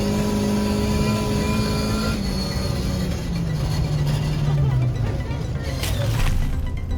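A rally car is driven at high pace across ice, its engine droning steadily with a rising and falling pitch as it holds speed, loud and close throughout.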